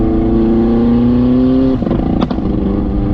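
A 550bhp turbocharged Renault Clio engine holds a steady, loud droning rev close by, then the note drops and breaks into rougher clatter and sharp pops as the throttle changes.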